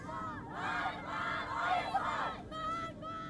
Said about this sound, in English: Some even chanted freedom.